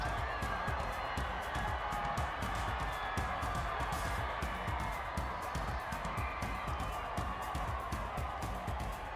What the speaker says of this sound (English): the crowd is just insane at this game